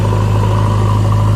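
A tractor engine runs steadily and loudly at close range, a constant droning hum with no talk or breaks.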